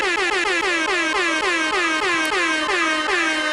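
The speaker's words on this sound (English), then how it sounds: "multitude of air horns on the way in today" Several air horns blare together in a loud, continuous, wavering chorus that repeats in quick pulses, played as an intro sound effect with no voices.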